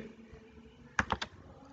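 A computer keyboard types a captcha code on an online FSSAI licence renewal form: three quick, crisp keystrokes close together near the mic, alone over faint room hiss.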